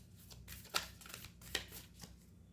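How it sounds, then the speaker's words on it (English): Tarot cards are shuffled and pulled from a deck in a few quick riffling bursts, close and crisp, with soft handling rustle between them. "let me pull out some more cards for you."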